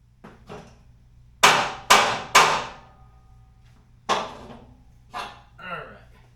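Sharp metal hammer blows on a kayak trailer, a quick run of three loud ringing strikes followed by two more spaced hits, with lighter knocks and a faint voice between them.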